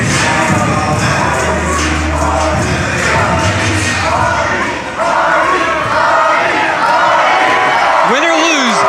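Arena crowd at a UWF professional wrestling event cheering for Jeff Hardy and Amber O'Neal, a loud, sustained roar with shouts and whoops, a commentator talking over it throughout.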